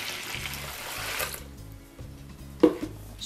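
Water is poured into a bucket holding a little leftover homemade laundry soap, a brief splashing burst of liquid over low steady background hum.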